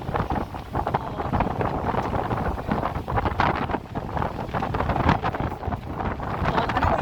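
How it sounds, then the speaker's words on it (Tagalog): Strong wind buffets the microphone along a lakeside baywalk in Calamba, Laguna, a loud continuous roar with gusty swells throughout and no voices. "Lakas ng hangin oh."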